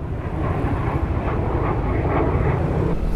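An overhead jet aircraft near Clark, Pampanga roars loudly and steadily, its sustained engine rumble swelling slightly as it passes, with no talk.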